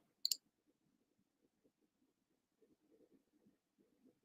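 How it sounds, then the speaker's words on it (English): A couple of quick, sharp computer mouse clicks near the start, then quiet with only faint low murmuring afterward. "I keep clicking."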